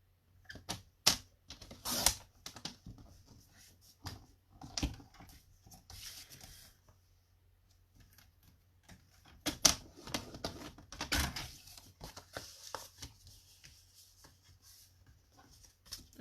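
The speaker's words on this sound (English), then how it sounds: "So I'll cut another piece of the white." Paper cutter or scissors working through white cardstock for a handmade card, heard as scattered sharp snips and clicks with quiet gaps between them, close and fairly faint, with no talking.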